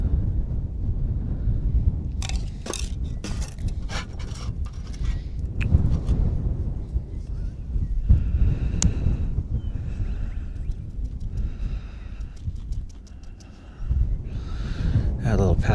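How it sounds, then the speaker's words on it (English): Strong gusting wind buffets the microphone outdoors during a cooking session, a continuous low roar with bursts and rumbles, while a person talks intermittently. "Looks like the wind has picked up horrendously."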